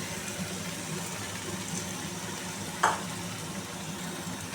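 Katla fish with ginger and spices sizzling steadily in a pan, a constant close frying hiss with a single brief clatter partway through.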